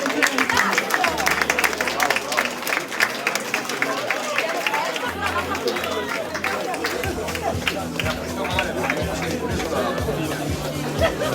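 Crowd applause for boxers at an Olympic boxing event in Verona: a dense patter of clapping mixed with chatter and hubbub, as the hall stays busy and voices carry on throughout.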